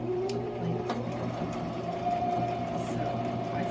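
A home sewing machine runs steadily, zigzag stitching over elastic on a wool flannel cover, its motor hum and rapid needle clatter close and continuous with no pauses.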